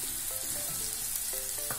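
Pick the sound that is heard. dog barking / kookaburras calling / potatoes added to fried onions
potatoes added to fried onions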